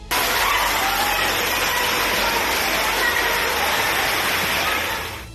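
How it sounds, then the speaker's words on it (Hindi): Rainwater gushes into a hostel basement in Agra during heavy rain, a loud, steady, continuous roar like a waterfall that eases off at the end. "बेसमेंट में बारिश का पानी इतनी तेजी से घुसा मानो कोई झरना फूट पड़ा हो"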